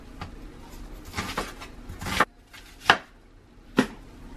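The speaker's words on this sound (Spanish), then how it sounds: "y la voy a partir lo que es a la mitad" A knife slices through an onion on a board, a few soft cuts followed by three sharp separate chops close by, with no talking.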